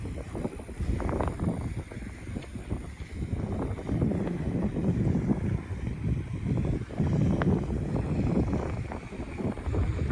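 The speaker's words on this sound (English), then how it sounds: "It's a lot windier now, so I'm sure you could hear the wind sound." Strong outdoor wind buffets an iPhone microphone on a walk around lakes in Katy/Fulshear, Texas, giving a continuous loud, rumbling roar with gusty surges throughout.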